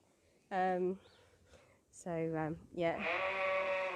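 Several loud sheep bleats close by on a farm during lambing season, one short call followed by a longer pair and a drawn-out wavering bleat, with quiet pauses between.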